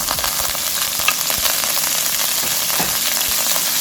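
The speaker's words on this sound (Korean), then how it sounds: "불은 센 불로 일단 볶고 있는 중이에요." Chopped green onion stir-fries in hot oil over high heat, a loud, dense, continuous sizzle with faint scraping of the spatula.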